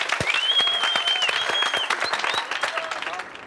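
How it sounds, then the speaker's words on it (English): A class of children applauds a student's song, lively close clapping with cheering and shouted voices over it, including a high whooping call, tapering off toward the end. "Let's give Wandile a big hand."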